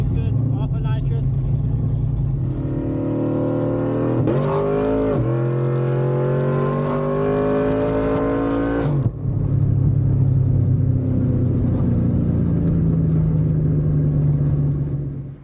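A car on a short 100-shot nitrous pull with a Nitrous Express Maximizer 6 and signal synchronizer, engine roaring hard and rising in pitch through the gears, loud and close inside the car, then easing to a steady cruising rumble.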